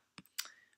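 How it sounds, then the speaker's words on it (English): Two quick, quiet mouse clicks sound close by as an accordion opens in the Weebly website editor, with no talk. "So you can click to open that accordion up."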